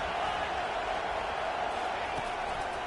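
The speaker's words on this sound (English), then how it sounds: "This crowd trying to make life miserable for this offense." Stadium crowd at a college football game between Arizona and Oklahoma State, a steady dense roar filling the background throughout with no distinct breaks.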